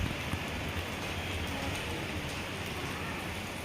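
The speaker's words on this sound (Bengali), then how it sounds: "প্রচণ্ড জোরে বৃষ্টি হচ্ছে" Heavy rain pours down in a dense, steady hiss of drops hitting surfaces, unbroken for the whole stretch with no voices over it.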